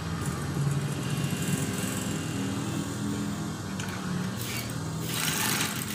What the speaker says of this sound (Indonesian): Mulai dari sini ya kita jahit ya.